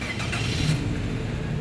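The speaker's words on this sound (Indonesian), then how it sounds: "Sekarang kita coba start mobil ya." Engine of a 2014 Daihatsu Sirion 1.3 D automatic with about 103,000 km catches and settles into a steady, close idle in one short burst, with no talking.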